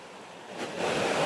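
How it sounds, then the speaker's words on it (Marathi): A waterfall on the Korigad trek rushes with a broad, steady splashing roar that swells slightly louder toward the end of the short stretch. "खळखळ आवाज येतोय एकदम प्रॉपर मध्ये"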